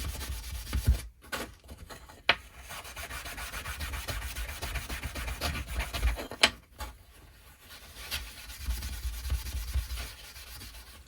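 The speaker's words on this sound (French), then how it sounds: "Allez, on va poncer ça, on va le ramener au blanc." A Snowpeak PP750 being sanded back to white, a close, steady rasping rub with brief pauses and a few sharp knocks along the way.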